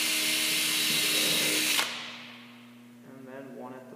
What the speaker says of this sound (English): So all I'm going to do is just pre-drill that.